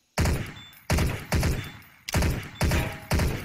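Six loud, sharp gunshots from the Trouble in Terrorist Town game, fired at irregular intervals with each blast decaying quickly, one coming in a quick double crack.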